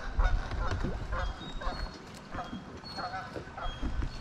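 A goose honks repeatedly from nearby on a lake in the Ozarks during a bass fishing tournament, its calls mixed with people talking, boat noise and background chatter.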